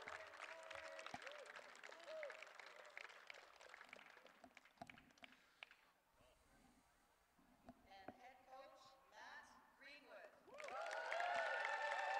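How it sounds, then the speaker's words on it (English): Crowd noise at a blind 5-a-side soccer match, with scattered clapping and cheering, a voice talking over it early on, swelling into louder applause near the end. "And a nice round of applause there for Matt Greenwood"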